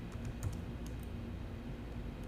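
Admin password and encryption key being typed on a computer keyboard during Cisco Identity Services Engine 2.7 setup, a quiet run of light key clicks over low steady background hum.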